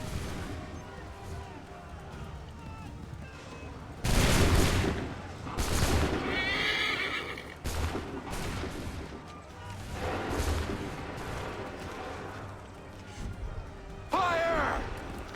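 A musket volley in Assassin's Creed III, colonial-era soldiers firing loud massed booming discharges several times amid battle noise, a horse whinny and shouted commands.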